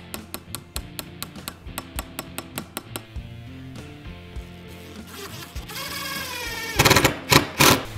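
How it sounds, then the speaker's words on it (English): A wood chisel cutting back the top layer of a woodworking piece to hide a screw: a quick run of sharp, evenly spaced taps, then scraping and a few louder, heavier bursts near the end. "I'm gonna try to hide a screw and first chisel back the top."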